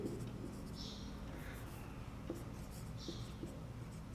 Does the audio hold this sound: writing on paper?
yes